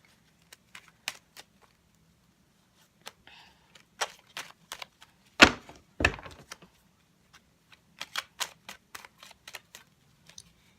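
Tarot cards are handled and shuffled nearby in short crisp bursts of clicks and riffles, with brief quiet gaps between them and no talking.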